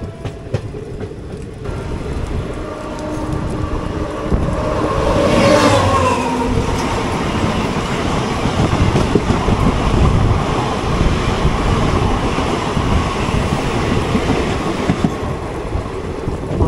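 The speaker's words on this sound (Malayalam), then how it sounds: "മധുരൈ ഗുരുവായൂർ എക്സ്പ്രസ് ആണ് പോയത്" A Madurai–Guruvayur Express train passes close by with a steady, loud rumble and rattle of wagons on rail, a brief horn-like tone near the start, continuous rolling clatter throughout, no talking.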